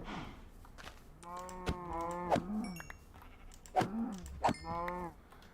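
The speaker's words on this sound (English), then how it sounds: "Cows and a couple horses." Cows lowing in a survival video game, with a couple of horses nearby, several drawn-out moos in a row at moderate volume, with no talking.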